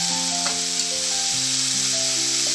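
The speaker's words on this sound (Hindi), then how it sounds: "अब इसको हल्का सा भूनेंगे, बहुत ज़्यादा मुलायम नहीं करना है, हल्का सा भूनेंगे" Vegetable spring roll filling sautés lightly in a pan with a steady hiss and sizzle, while gentle tonal background music plays on top, without any talking.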